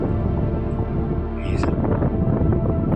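Steady low rumbling wind buffeting the microphone throughout, loud and continuous, with a faint brief tonal whistle in the middle.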